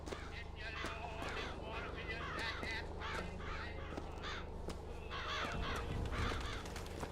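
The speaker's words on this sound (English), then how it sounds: "Oh, that's a bird." A bird caws several times in Bioshock Infinite, harsh crow-like calls repeating over a busy game backdrop of steady ambience and hoof-like clopping, with a voice talking at moments.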